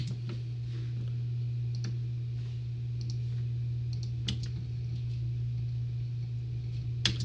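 Computer mouse clicks while editing in Final Cut Pro, scattered light ticks at irregular intervals over a steady low hum, close and quiet.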